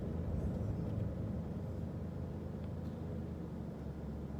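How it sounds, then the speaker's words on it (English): School bus speeding down a side road in a city's North End neighborhood in summer, a steady loud low engine and road rumble sustained throughout without a clear pass-by peak. "this school bus is just flying down the side road here"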